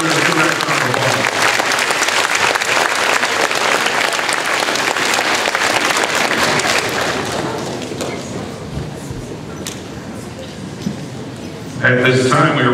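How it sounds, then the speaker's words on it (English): Audience applause fills a school's 8th grade graduation and academic awards ceremony, broad and sustained, easing off toward the end before a brief louder burst. "give that round of applause."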